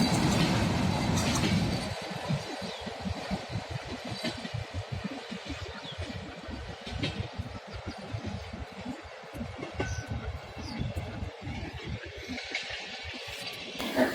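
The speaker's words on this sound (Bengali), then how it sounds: "এটা হচ্ছে আপনার খুলনা টু ঢাকা এক্সপ্রেস। ট্রেনটা অনেক দ্রুত গতিতে যাচ্ছিল" A Khulna to Dhaka express train rushes past a station at speed, a loud roar giving way to rapid, continuous clickety-clack of wheels over rail joints that lasts throughout, with no talking.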